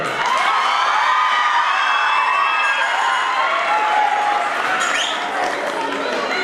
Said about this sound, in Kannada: ಏನು ವಿದ್ಯಾರ್ಥಿಗಳು ಇಷ್ಟನ ಜೋರಾದ ಚಪ್ಪಾಳೆ.